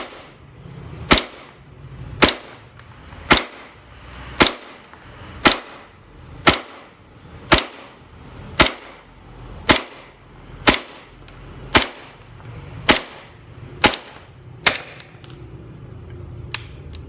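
Double Bell M1911 gas-powered BB pistol fired shot after shot through a full magazine: about fifteen sharp, evenly spaced cracks roughly a second apart, loud and close, with no talking.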